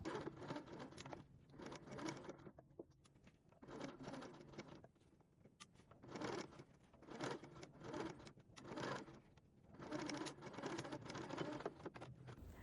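A domestic sewing machine stitches a seam along the fold of bias binding on a baby's bib neckline, running in repeated bursts of rapid mechanical whirring separated by short pauses.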